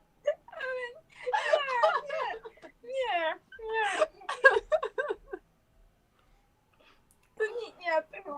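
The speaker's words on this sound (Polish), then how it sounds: "A i się popłakałaś." A girl cries and whimpers over an online video chat, with wavering wails and sobbing bursts broken by short silences, close and moderately loud.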